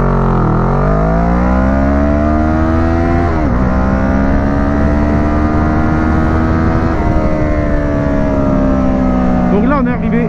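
A 2012 Kawasaki ER6N motorcycle, restricted to 35 kW, pulls hard from a standstill to 100 km/h, its engine note climbing sharply through the revs with distinct gear-change dips around three and seven seconds, loud and close throughout.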